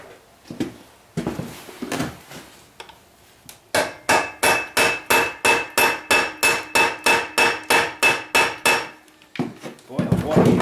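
Hammer blows on the seized rear axle of a Honda CRF110F: scattered knocks, then a steady run of about twenty sharp, ringing metallic strikes at an even pace, close and loud, before a pause and a few more hits.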